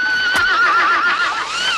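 A horse neighs loudly and close as a sound effect, a single drawn-out wavering whinny with a short sharp onset and faint hoof clatter.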